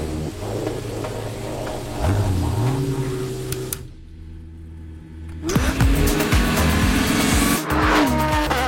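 A car engine revs hard and pulls away close by, its pitch sweeping up through the gears, with a brief muffled drop-out in the middle before the loud engine roar returns.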